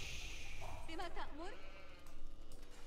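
Sheep bleat in Age of Empires IV, with one wavering, rising-and-falling bleat in the middle of the clip. It sits over steady game ambience while voices talk alongside it.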